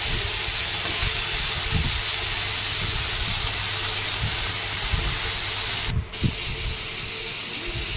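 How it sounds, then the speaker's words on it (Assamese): Prawns fry in a pan with a loud, steady hiss that drops out briefly once before carrying on. "প্ৰথমতে মিছা মাছখিনি ভাজি লৈছো"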